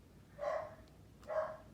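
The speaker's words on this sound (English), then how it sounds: "Sorry for my dog barking." A dog barks twice, muffled and somewhat distant, roughly a second apart, set against a quiet indoor background with no talking.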